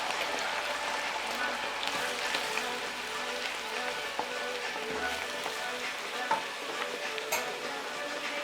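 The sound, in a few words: diced tomato added to frying chicken cacciatore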